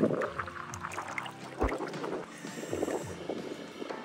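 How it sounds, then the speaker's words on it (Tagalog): Strong outdoor wind buffets the microphone in heavy low rumbling gusts that rise and fall, with faint background sounds beneath the roar and no clear speech. "sobrang lakas ng hangin dito"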